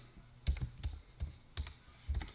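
Keys clatter on a computer keyboard at a Windows PC while a command is entered to load a script onto an ESP32 board: a handful of separate taps and short bursts, close and fairly quiet, with no voices.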